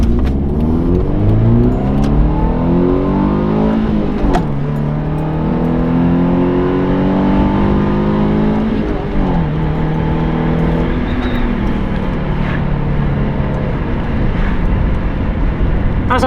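Subaru Impreza engine revving hard with the intake air muffler removed, several rising and falling revs that sweep up and drop back, loud and close with a continuous engine drone between them.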